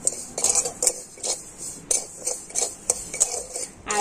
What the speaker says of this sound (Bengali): আর এখন আমি চিনি আর চা পাতাটা একটুখানি ভেজে নেব